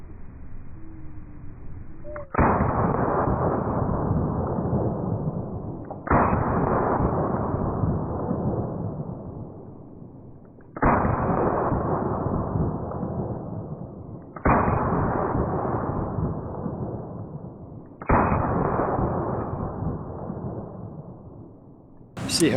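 Five rapid pistol shots fired two-handed at a target 30 feet away on a dirt range, each a sharp loud crack followed by a long decaying echo, spaced a few seconds apart.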